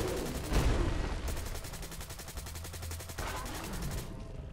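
Rapid bursts of automatic fire from a deployable portable turret in the Fallout 4 video game, continuous and moderately loud across the whole stretch, with brief pauses between volleys.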